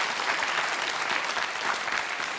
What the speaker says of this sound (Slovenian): En aplavz za zmagovalce.